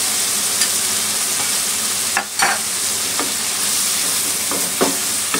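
Fried eggplant and sauce sizzle loudly in a hot pan with egg, a steady frying hiss broken by occasional scrapes and clinks of stirring, close up, with no talk.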